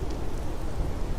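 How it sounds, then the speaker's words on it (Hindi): Rain pouring down, heard as a loud, dense, unbroken hiss with a low rumbling undertone and no pauses; nobody talks. "अरे ये क्या, बारिश तो अब घर में ही बरस रही है माँ।"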